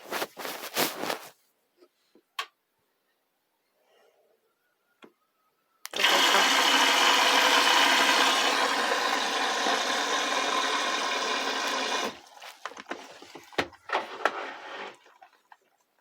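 A Beko washing machine starts its quick daily 60-degree program with 1000 rpm spin: scattered clicks and knocks, then about six seconds of steady rushing, whooshing noise, then more intermittent clunks and rattles.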